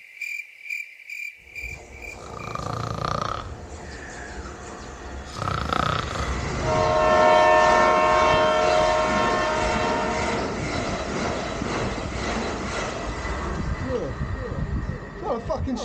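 A train crosses the Ouse Valley Viaduct, sounding short horn blasts early, then a long, steady rolling rumble as it passes, with insects chirping throughout.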